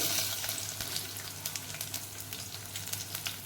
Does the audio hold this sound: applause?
no